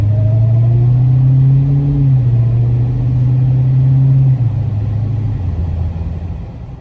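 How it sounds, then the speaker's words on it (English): A supercharged 2020 Dodge Challenger SRT Hellcat Widebody engine drones and rises in pitch as it accelerates, a steady rumble with a faint supercharger whine over it, then eases off. "you do notice the supercharger whine just a bit"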